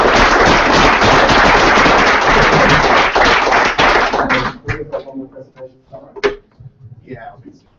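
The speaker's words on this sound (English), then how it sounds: "Give a round of applause, please." An audience at a London cryptocurrency meetup breaks into dense, loud applause after a presentation, which cuts off abruptly after about four seconds and leaves a few scattered claps and murmurs.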